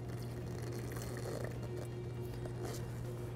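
Water being poured into the Part B container of an epoxy primer kit, a steady close liquid trickle over a low constant mechanical hum.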